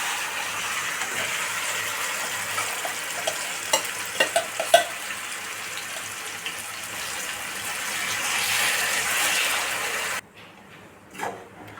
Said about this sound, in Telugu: ముందుగా మనం మ్యారినేట్ చేసి ఉంచుకున్న మటన్ కూడా వేసేసుకుందామండి